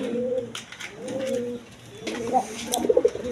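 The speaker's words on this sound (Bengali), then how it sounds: "এইখানে এক পেয়ার আপনার রাসগোল্লা কবুতর আছে দেখেন" Pigeons for sale in pairs at a pigeon market coo in low, repeated throaty rolls. The coos rise and fall close by, with brief chirps and faint market voices in the background.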